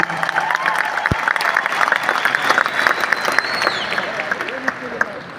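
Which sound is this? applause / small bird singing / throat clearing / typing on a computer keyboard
applause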